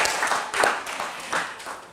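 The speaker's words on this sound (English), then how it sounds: "Let's give it a round of applause." Audience applause at a design awards ceremony, a steady wash of many hands clapping with small swells in loudness, fairly close and continuous throughout.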